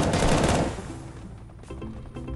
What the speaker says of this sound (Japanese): いっぱい撃たせて、はい、リロード。